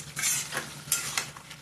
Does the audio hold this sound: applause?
no